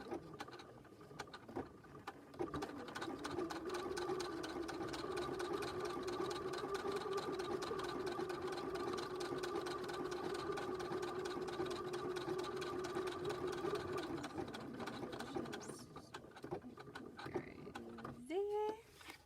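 A sewing machine runs for a long continuous stretch stitching a hearts zipper purse, a steady droning whir close by that tapers off near the end, with a quiet voice briefly audible around it.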